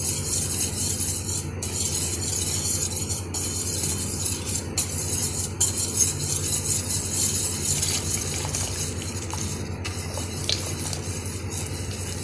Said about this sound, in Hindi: अब हम हल्की आंच करके इसमें कॉर्नफ्लोर शामिल करेंगे और मुसलसल इसको चलाते रहेंगे।